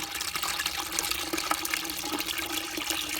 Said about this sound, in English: let's take the liquid out of this. Let's just move the liquid.